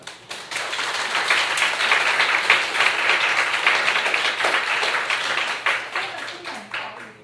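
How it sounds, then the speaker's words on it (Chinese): Sustained audience applause at an African market research forum thanks a businesswoman speaker, a dense, even wash of clapping with distinct individual claps that fades slightly at the close. "那我们是不是最后以热烈的掌声来感谢陈秀英董事长"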